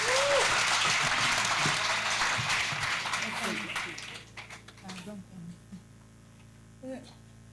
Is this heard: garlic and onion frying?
no